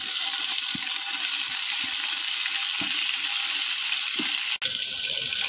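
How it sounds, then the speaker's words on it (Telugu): Onions, green chillies and curry leaves with ginger paste fry in a pan for mutton biryani, giving a steady, loud, close sizzle with faint scraping stirs and one brief break near the end. "ఎర్రగడ్డలు వేగిన తర్వాత 2 స్పూన్లు అల్లం పేస్ట్ వేసుకోవాలి"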